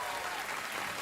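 Studio audience clapping on a late-night talk show, a dense steady patter of many hands throughout, fairly soft and without pauses.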